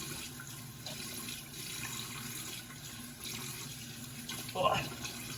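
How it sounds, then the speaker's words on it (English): A tap runs into a sink as a face is rinsed after a safety-razor shave, a soft, continuous splashing stream with small surges of water and a brief louder splash near the end. "Let's go ahead and wash off the face."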